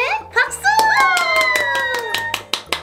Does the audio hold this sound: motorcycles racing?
no